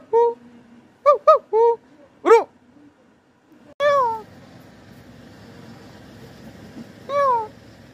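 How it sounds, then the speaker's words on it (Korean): A neighborhood cat at a villa meows repeatedly, loud and close, in short separate cries with pauses, the last few longer and drawn out, over quiet outdoor background. "삼형빌라의 야옹이"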